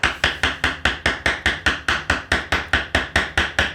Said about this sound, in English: That's what these little taps of the hammer are great for.